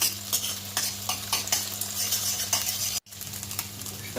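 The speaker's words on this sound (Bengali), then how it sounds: "তেলটা গরম হয়ে গেছে এবার আমি নুন দিয়ে ফেটিয়ে রাখা ডিমটা দিয়ে দিলাম" Beaten, salted egg frying in hot oil in a kadai, a steady loud sizzle with light stirring clatter, continuous apart from a brief cut near the end.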